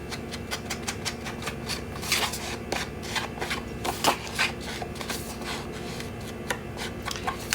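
Scrapbook paper panels get their edges inked with quick, repeated rubbing and scuffing strokes, a soft papery shuffling that runs continuously at close range with a few louder swipes.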